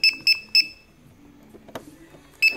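A battery voltage alarm on an RC car gives three quick, sharp high beeps, then a pause with faint handling clatter and one more beep, loud and close.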